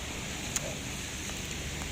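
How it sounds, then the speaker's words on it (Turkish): Steady rain falling on the Bosphorus shore near Anadolu Kavağı, a soft even hiss of drops with faint wind and one brief tick, no voices. "Bir boğaz havası alalım dedik ama yine yağmur var."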